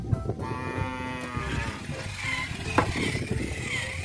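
A cow lets out a drawn-out moo nearby, with rustling and engine-like background noise around it.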